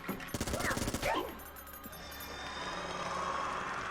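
Rapid bursts of gunfire from the video game Enter the Gungeon rattle out for about a second, then give way to quieter in-game tones.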